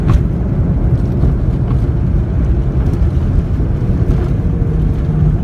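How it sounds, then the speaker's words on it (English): A Ryanair Boeing 737-800 rolls out after touchdown under hard braking and idle reverse thrust, heard from the cabin as a loud, steady, continuous roar and rumble. "Hard braking, and it's idle reverse. Bit of a hard braking here."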